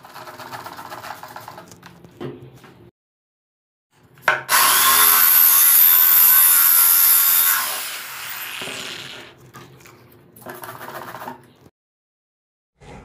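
A 30 mm diamond core bit drills a large hole through ceramic tile with water added, giving a loud, sustained high grinding whine for several seconds, with quieter handling noises before and after.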